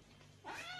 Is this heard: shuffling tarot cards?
no